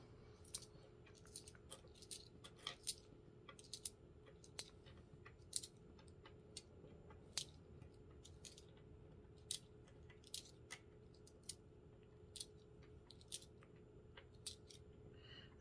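Loose coins are handled and counted, giving a string of small, sharp metallic clinks at a steady pace over a quiet background, close and fairly faint.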